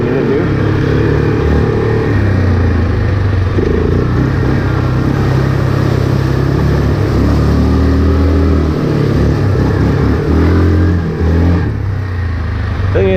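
A 2018 Yamaha Kodiak 450 ATV engine drones and revs steadily on a wet, muddy trail, loud and close, with the throttle rising and easing throughout.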